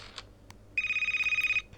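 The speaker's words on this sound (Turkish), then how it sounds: "Herkesin telefonu çaldı bir anda" A telephone rings nearby in a bright, electronic trill that pulses rapidly for under a second, following a few faint clicks.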